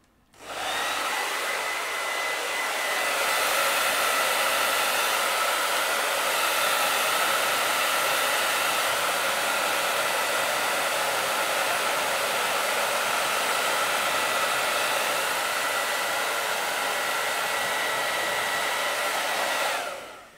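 A hair dryer blows steadily and loudly for about twenty seconds while drying a beard, a constant airy whoosh with a faint motor whine, no voices.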